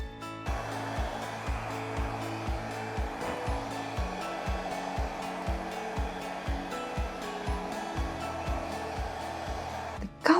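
A hair dryer blows steadily across wet acrylic pour paint on a canvas with two rings of colour, a continuous close whooshing drone with a slight pulsing flutter, fairly even in level, with no speech.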